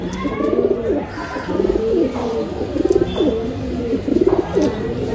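A desi pigeon coos in repeated throaty bursts, close and clear, with a low hum behind it.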